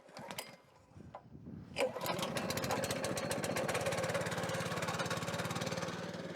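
Super Split kinetic log splitter's small engine, started cold on the choke: a few quiet handling sounds, then a pull-start at about two seconds and a steady, loud, rapid-firing idle that runs to the end.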